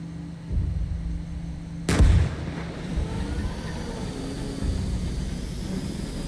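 A tank cannon fires in the GHPC combat game, one heavy booming blast with a rumbling tail over steady engine drone and low mechanical hum.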